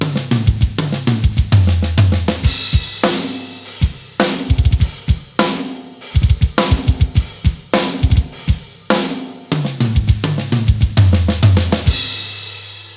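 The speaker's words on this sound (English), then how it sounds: "hit the crash and kick the kick drum at the same time on beat 1 of the following measure" A drum groove with a fill in groupings of five and three that lands on a crash cymbal struck together with the kick drum, repeating several times, close and loud with sharp snare and tom hits and washy cymbal decays.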